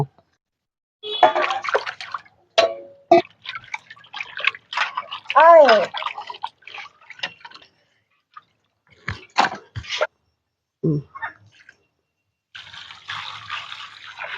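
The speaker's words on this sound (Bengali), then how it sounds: "মাছগুলো কাটা হয়ে গেছে বন্ধুরা এবার মাছগুলো আমি ভালো করে ধুয়ে নেব" Cut pieces of desi katla fish are washed by hand in water, giving scattered splashes, drips and sloshing with gaps of quiet, close and moderately loud.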